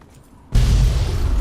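A loud, deep explosion in the video game Fallout 3 bursts in suddenly after a quiet moment and rumbles on heavily to the end.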